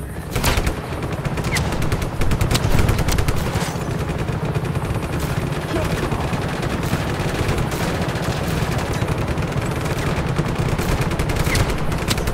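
Gunfire in the video game Just Cause 3 comes as dense, continuous rapid shots with steady automatic fire and explosions, loud and sustained throughout with no talk.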